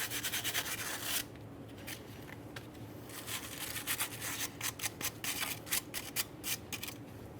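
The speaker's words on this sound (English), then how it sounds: "You can use a wire brush for this or some sandpaper if necessary." Wire brush scrubbing the wheel backing plate of a 1994-2001 Dodge Ram 1500 truck, a dense raspy scraping in quick rhythmic strokes, close and fairly quiet with no talk.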